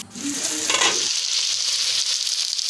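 Assamese-style chicken frying with pumpkin and potato, stirred in the pan, a loud, close sizzle with a brief clatter of stirring at the start before settling into steady frying, no voices.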